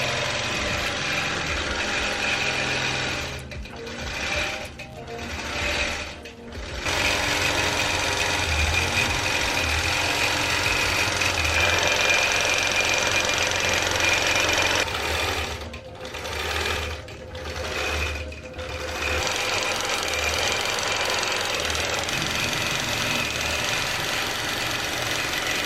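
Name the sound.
longarm quilting machine quilting a quilt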